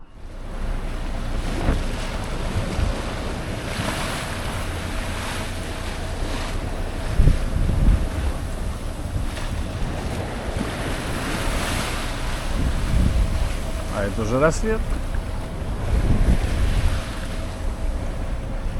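Ocean waves wash and slosh steadily around a sailing boat in the Gulf Stream, with wind buffeting the microphone and a brief spoken remark.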